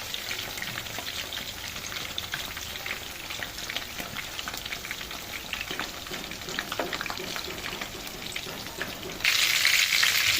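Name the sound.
chicken tikka pieces frying in a pan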